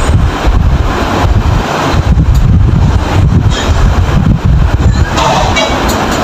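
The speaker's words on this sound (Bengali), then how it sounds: "এখন আমরা এসিটি চালু করে দিলাম," A Gree air conditioner runs with its fan blowing, giving a loud, close, continuous rushing whoosh that stays steady throughout.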